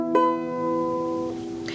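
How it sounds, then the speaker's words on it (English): Sustained, bowed down-tuned violin note rich in steady harmonics, with a bow change or new note near the start and a subtle shift later, played close and fairly loud with a faint noisy room background. "I wrote all of these songs on a down-tuned violin"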